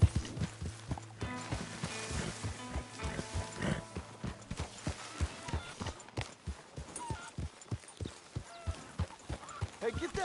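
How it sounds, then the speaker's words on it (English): Horse hooves clip-clop at a steady walking rhythm in the Red Dead Redemption 2 video game, fairly close, with game music and ambience underneath. "get that horse out of here"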